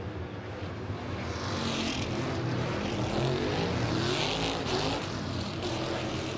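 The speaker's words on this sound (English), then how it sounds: "Don't you love the sound of those cars on dirt?" NASCAR Cup Series cars racing on the dirt track at Bristol Motor Speedway, a loud, continuous engine roar swelling as the field passes, with no talk over it.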